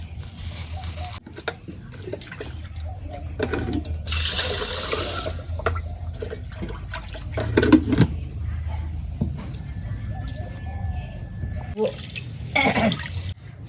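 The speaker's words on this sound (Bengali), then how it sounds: "চাল ধোয়া শেষ" Rice being washed in a cooking pot with water for dry dal-and-potato khichuri, with continuous swishing, splashing and trickling water close by, a few brief louder sloshes, and no talking.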